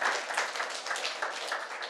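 An audience claps for a correct quiz answer at a Buddhist vihara gathering in Bhandara, brief soft applause heard from a distance with no voices.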